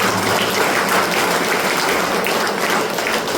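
Church congregation clapping hands together during a worship service, a dense, steady wash of applause that fills the whole stretch without a break.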